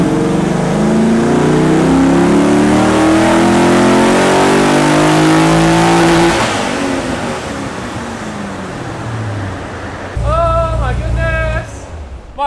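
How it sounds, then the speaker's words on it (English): A tuned car of about 400 horsepower revs hard on a dyno, its engine note climbing loud and close for several seconds, then dropping away into a lower drone before a short final burst. "I want to run it on my dyno, which historically reads a little bit lower than elsewhere"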